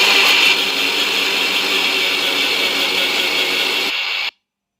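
A mixie jar grinds sesame seeds with two other ingredients into a coarse paste, giving a loud, steady whirring roar that runs unbroken for about four seconds and then cuts off abruptly.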